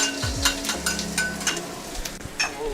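Garlic and ginger hit hot oil in a wok for a spicy Sichuan stir-fry, giving a steady close sizzle broken by sharp clinks and scrapes of a utensil against the pan.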